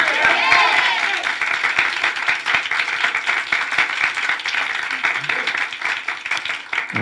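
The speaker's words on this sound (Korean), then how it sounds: "먼저 우리 하나님께 박수로 영광 돌리겠습니다" Steady applause from a church congregation, many hands clapping during a Sunday morning service, continuous and fairly loud throughout, with a voice briefly heard at the start.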